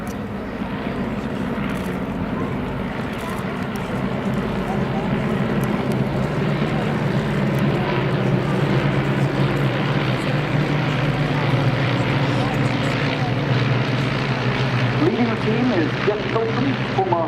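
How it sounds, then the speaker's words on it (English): A formation of eight de Havilland Tiger Moth biplanes, each with a 130 horsepower de Havilland Gipsy Major engine, gives a steady, droning propeller rumble that builds slightly in loudness and holds throughout. Voices can be heard faintly beneath the engines. "Savour the sound of those 8 130 horsepower de Havilland Gypsy Major engines"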